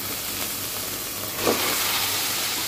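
Potatoes and fried rohu fish go into hot spice paste for a fish curry, with a steady loud sizzling hiss that swells briefly midway and keeps going.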